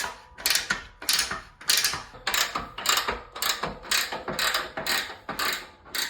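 A ratchet wrench turning bolts while a home gym machine is reassembled, loud, close clicking strokes in a steady back-and-forth rhythm, about a dozen pulls with no talking.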